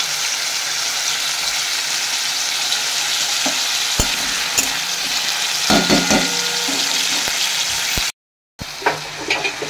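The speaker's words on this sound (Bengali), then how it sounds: "আর সাথে হবে এখানে বেগুন ভাজা" Brinjal (eggplant) slices fry in a pan, a steady loud sizzle up close with occasional clinks and scraping of a utensil, broken by a brief silent gap near the end before the frying resumes.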